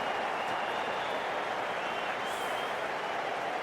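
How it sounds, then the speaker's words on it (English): A cricket crowd at an England versus West Indies T20 international applauds a boundary, steady dense clapping and cheering filling the whole stretch at even loudness. "the excitement emanating from this crowd at the moment"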